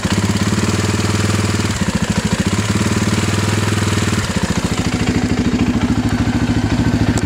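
A 2007 Polaris Outlaw 525 IRS ATV engine runs loud and close for the whole stretch, a steady, rough chugging idle whose pulse shifts briefly a few times as the throttle is blipped. No voices.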